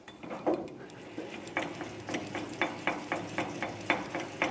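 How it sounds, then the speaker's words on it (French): Blade height mechanism on a table saw being adjusted, a run of rhythmic ratcheting clicks and small metallic knocks, close and clear with no talk. "Et je vais pouvoir régler ma lame"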